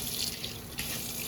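Hot water runs steadily from a tap into PVC pipes, a close, continuous hissing gush with no break, no one speaking.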